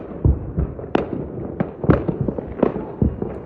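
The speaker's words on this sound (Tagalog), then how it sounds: "Ang fireworks guys." Fireworks burst in a rapid irregular series of sharp pops and cracks, some close and loud, others fainter, at an outdoor celebration near a Radisson hotel.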